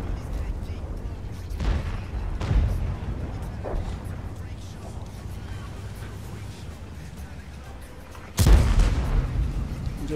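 Booming cannon shots from an E-50 tank in World of Tanks on the Studzianki map, one near the start and a louder blast late, under ongoing talk by a player.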